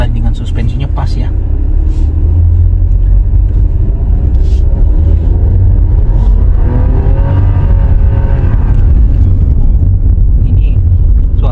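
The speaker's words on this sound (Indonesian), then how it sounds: "Ini suara mesinnya memang agak kasar," A 2023 Toyota Agya's three-cylinder engine drones from inside the cabin while driving, a low, slightly rough rumble with rising and falling revs, overlaid by road noise and people talking.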